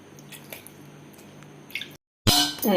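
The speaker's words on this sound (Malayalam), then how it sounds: "നമുക്ക് വെള്ളം ഒഴിച്ച് അതൊന്ന് മിക്സ് ചെയ്തിട്ട് വരാം" Water and salt are worked into flour by hand for dough, heard as soft, wet squishing and dripping sounds up close, broken by a short silence before a louder burst of sticky mixing.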